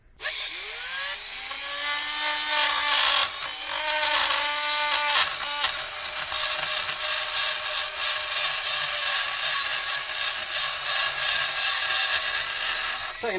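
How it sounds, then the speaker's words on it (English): An auger bit trimming excess wood on a Marlin Sidewinder tremolo restoration, a power tool whining steadily with pitch rising as it spins up, then a sustained high buzzing grind through the wood, no talk. "Some kind of auger things, so I can trim off some of this excess"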